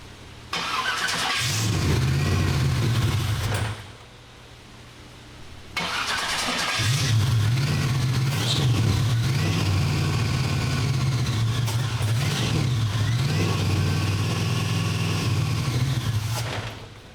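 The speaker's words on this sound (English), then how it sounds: "So it does fire up and go vroom and blow fire out of the pipes." A car on a dyno cranks and fires into a loud, rough idle, falls quiet briefly, then restarts and runs with throttle blips and a steady, close engine roar to the end.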